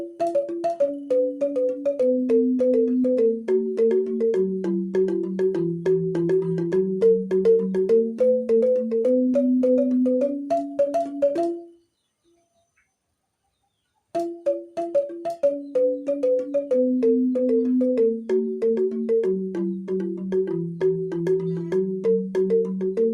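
A Balinese rindik bamboo xylophone plays a fast, steady run of mallet notes in a repeating descending pattern, clear and alone, with a brief pause midway before the pattern resumes.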